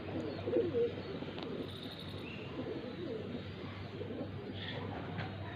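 Pigeons coo in a loft of newly bought birds, a low, steady murmur that runs through the whole stretch at moderate level, with no talk over it.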